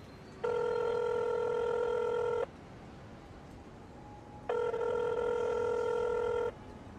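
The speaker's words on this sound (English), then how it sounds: "I'd better phone Betty now." Two long, buzzing telephone ring tones, each lasting about two seconds, separated by a pause with a faint hum between them.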